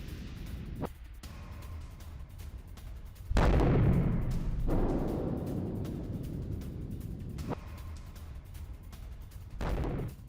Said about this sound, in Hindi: कीव के 10 इलाकों में धमाके सुनाई दिए।